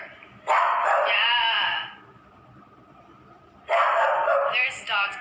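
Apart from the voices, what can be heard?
dogs barking across the street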